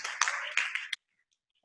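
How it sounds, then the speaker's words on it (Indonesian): A short burst of clapping for participants on Zoom, a few loud claps over under a second, breaking off abruptly into silence before a brief sound at the very end. "Kita kasih tepuk tangan untuk kawan-kawan semua yang ada di Zoom"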